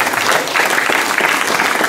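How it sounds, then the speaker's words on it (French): An audience gives a close, loud burst of continuous applause. The clapping is dense and even and fills the whole short moment without any voices. "Puis je vous demande encore de l'applaudir, Victor"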